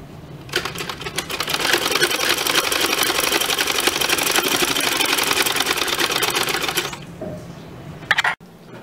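A sewing machine stitches a baby frock in one continuous, loud rattling run of about six seconds, then slows and stops, ending with a few brief clicks and no talk.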